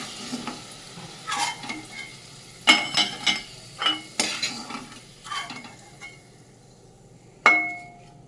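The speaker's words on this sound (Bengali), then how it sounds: "আলুটা কিন্তু ঠিক এরকম লাল লাল করে ভাজতে হবে" Potato pieces fry in hot oil in a pan while a metal spatula stirs them, giving a soft sizzle broken by a series of sharp scraping clanks against the pan, one loud clatter near the end.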